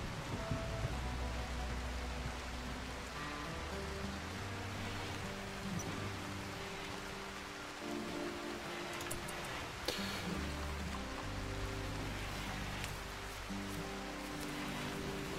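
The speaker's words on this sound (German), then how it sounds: "Es gibt einen nebligen Regen gerade, der die Feuer löscht." Misty rain falling in the video game RimWorld, a steady, soft hiss with faint pattering that continues evenly throughout, with a low background music tone under it.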